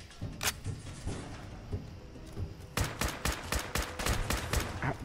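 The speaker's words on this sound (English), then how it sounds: "Bro, stop shooting me." Video game gunfire in a fallout survival match: scattered single shots early, then a dense run of rapid sharp cracks like automatic fire, loud and close.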